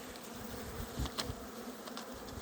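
Honey bees hum around an opened hive at an apiary in August, the plastic film over the frames pulled back, giving a soft, steady, fairly faint buzz with a few closer passes.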